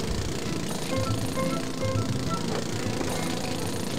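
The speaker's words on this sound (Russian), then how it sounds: "Какая-то стройка." Construction site din in the Ratatouille video game: a steady, moderately loud bed of rattling, jackhammer-like noise continues throughout with no voices.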